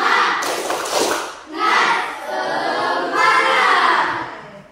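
A school class of children claps rhythmically together in an Indonesian 'tepuk semangat' cheer, with bursts of clapping and chanted voices in short phrases, close and lively.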